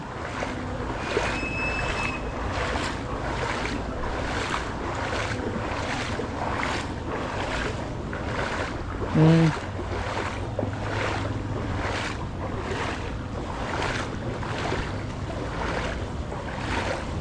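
A motor tricycle pushes through deep street floodwater in a town flooded by torrents from the Sierra Madre. Steady rushing, sloshing water and surging waves run throughout, with heavy wind buffeting the microphone and a brief low hum near the middle.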